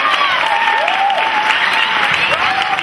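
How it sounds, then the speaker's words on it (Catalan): Steady, dense audience applause in a theatre during a pubilla and hereu election ceremony in Palafolls, with a voice carrying over the continuous clapping throughout. "Un fort aplaudiment."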